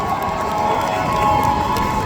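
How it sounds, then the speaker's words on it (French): A festival audience applauds and cheers the participants at a national cosplay cup final, a loud, steady wash of crowd noise with no voice standing out. "je vous demande d'allumer tous vos petites loupiottes et d'applaudir à nouveau l'ensemble de tous nos participants"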